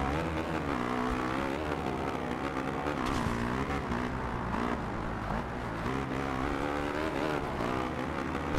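Motocross motorcycle engines racing in MXGP 2, a constant loud buzzing drone of several bikes with rising and falling pitch as riders accelerate and shift, steady throughout with no pauses.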